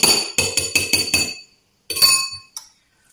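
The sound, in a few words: small spoon stirring baking soda and cornstarch in a bowl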